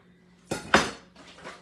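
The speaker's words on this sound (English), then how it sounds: "Pull out the bottom rack," The bottom metal rack of an oven slides out in two sharp metallic clanks, followed by a softer rattle as it settles.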